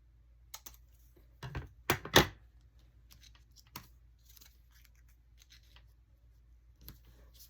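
Scissors snip through a paper ticket in a few sharp, quiet cuts, with a cluster of louder snips in the middle and sparse paper rustles between them, heard close and without talk.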